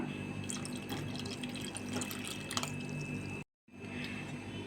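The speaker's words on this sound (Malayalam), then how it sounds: "ഇനി ഇതിലേക്ക് കാൽ കപ്പ് വെള്ളം കൂടി ഒഴിച്ചു കൊടുക്കാം" A quarter cup of water is poured into a bowl of semolina and curd batter, making a soft splashing, trickling pour close by. The sound briefly drops to silence near the end.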